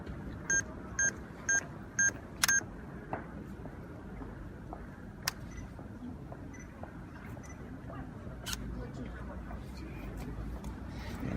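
A camera's two-second self-timer beeps outdoors in Zurich, with four short evenly spaced beeps followed by a quicker final beep and a click, over steady street ambience.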